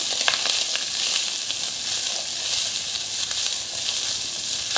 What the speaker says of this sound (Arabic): أنزل اللحم وما راح أحط زيت، يعني هو اللحم شوية دهين عندي هناية، وراح مباشرة أخلي البصل وياه